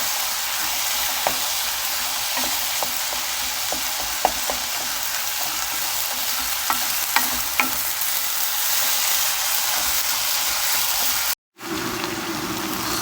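Steady frying sizzle in a pan while lentil and mince soup ingredients are stirred, with soft scraping stir strokes and small clicks throughout and a brief cut near the end.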